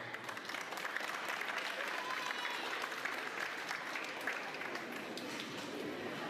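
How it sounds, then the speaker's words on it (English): Audience applause at a graduation ceremony, dense, steady clapping from a large crowd heard from a distance, sustained evenly for several seconds without a break. "Another round of applause."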